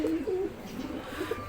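Pigeons cooing in their coop, several low soft coos and murmurs close by, continuous through a short stretch with no voices.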